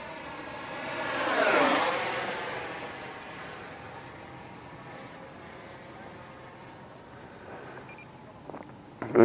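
A Freewing Mirage 2000 80mm electric ducted-fan RC jet in flight, its whining turbine-like roar swelling in a flyby with a pitch shift as it passes, then fading into a steady distant hum, with a person talking.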